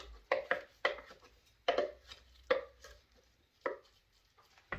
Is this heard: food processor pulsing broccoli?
yes